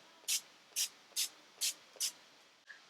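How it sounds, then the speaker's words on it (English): Five quick pumps of a matte makeup setting spray bottle, each a short soft hiss, spaced evenly apart and close by. "I'm going to take the Fix It Up Matte Setting Spray."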